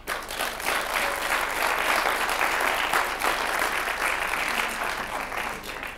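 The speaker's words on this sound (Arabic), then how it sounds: "زيدوا لنا تصفيقة خاصة" Sustained audience applause fills a television studio during an Algerian talk show about including children with Down syndrome, steady dense clapping from a large crowd throughout, with no speech over it.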